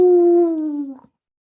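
A podcast host howls like a dog, imitating a canine: one long, loud, sliding howl of about a second that drops in pitch and ends in a short break, heard alone with no other talk.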